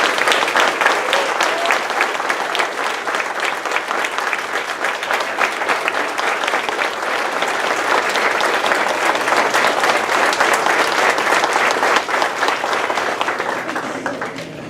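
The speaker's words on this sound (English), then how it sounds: "Let's give him another round of applause." Sustained applause from a graduation ceremony audience after a tribute to a longtime ballet company performer, dense, steady and loud throughout, tapering slightly at the end.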